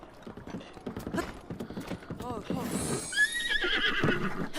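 A horse in the video game Zelda Breath of the Wild whinnies loudly amid rhythmic galloping hoofbeats, with someone talking over the clip-clop throughout.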